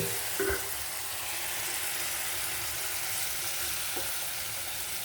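Raw mango and date pickle cooking in a hot pan over a raised flame, giving a steady broadband sizzle with a couple of faint scrapes from stirring.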